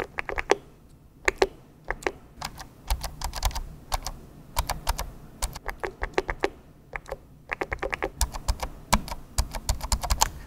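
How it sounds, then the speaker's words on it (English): Original Elgato Stream Deck keys and Scissor Keys pressed in quick bursts of close, crisp clicks and taps, with short pauses between flurries and no talking. "Let's have a listen at how the original and Scissor Keys sound."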